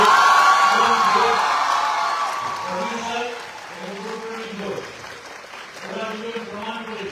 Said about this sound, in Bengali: একটা খুব জোরে হাততালি দরকার অভিনেতা